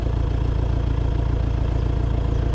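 MTZ 892.2 tractor engine pulling a cultivator with a compactor through dry, hard-topped ploughed ground, a loud steady diesel drone with an even low throb and no talking.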